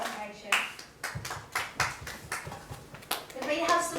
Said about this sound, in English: Could we have some applause, please, for their